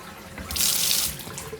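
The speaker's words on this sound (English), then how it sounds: "Do not turn the tap on full blast" Bathroom sink tap in a Premier Inn hotel room opened to full force, a hard hissing gush of water close up that swells, holds for about half a second, then eases off.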